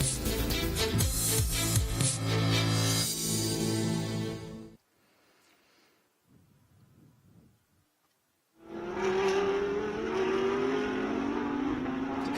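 A GT race car's engine roars at full throttle on the Sonoma circuit, then drops to near silence for several seconds before another car screams in loudly, its pitch climbing as it accelerates.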